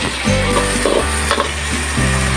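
Plenty of garlic and onions sizzling loudly in a pan for dinuguan, a continuous dense frying hiss with occasional stirring clatter, close and without talk.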